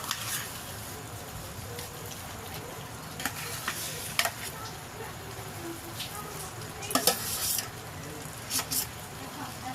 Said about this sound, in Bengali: আবারও ভালো করে নাড়াচাড়া করে কষে নেব